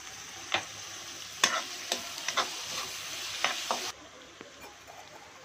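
Onions, curry leaves and green chillies fry in oil for a mushroom pepper-fennel masala, giving a steady close sizzle broken by several sharp stirring scrapes and pops, with the hiss dropping lower near the end.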